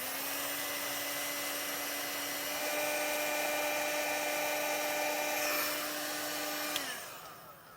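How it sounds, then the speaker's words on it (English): Heat gun blowing steadily while shrinking heat-shrink butt connectors during a Roadmaster Smart Diodes wiring kit install on a 2023 Jeep Wrangler; a loud whining motor hum with an airy rush that swells midway, then winds down as it shuts off. "I'm going to come in with my heat gun and seal them up"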